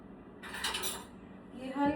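Small light utensils loaded into the upper rack of a Bosch dishwasher, a brief burst of faint clinks and rattles of cutlery and dishes with a soft voice nearby.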